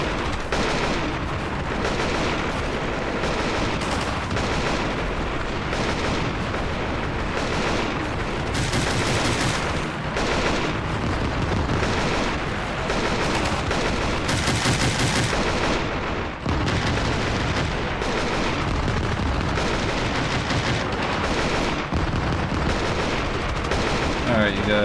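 Sustained gunfire and artillery from a modern-war battle in the Armored Brigade II strategy game, dense bursts of shots and booms layered continuously and loudly throughout, with occasional louder blasts.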